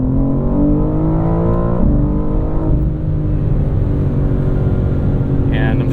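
A 2023 BMW M4 CSL, a heavy carbon-trimmed coupe, drones loudly and steadily from inside the cabin on a canyon road, its engine note shifting as the car accelerates through gears, with no one talking.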